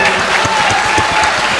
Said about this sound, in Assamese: এনেকৈ কথাটো কওঁতে দুজেগাতে হাত চাপৰি বজাইছে